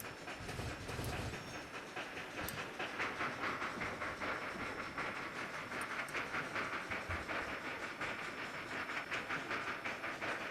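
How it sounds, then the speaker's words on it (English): C&O coal train locomotive in the Trainz railroad simulator, a steady rumbling engine drone with hissing and rhythmic rail clatter running continuously at moderate distance. "I just love the way this engine sounds"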